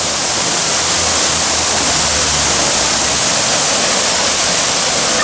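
Water gushes in a loud, unbroken roar like a river, pouring from damage left by a hit-and-run crash on a downtown San Luis Obispo street.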